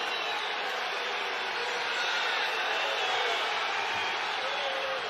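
A college wrestling crowd at the 2020 Penn State at Iowa meet makes a steady, broad roar of voices reacting to a mat push-out call, with faint commentary underneath.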